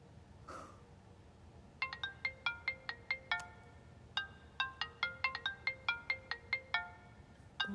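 A phone ringtone plays nearby, a quick run of bright electronic beeps in repeated bursts with a short gap, fairly quiet over a low hum.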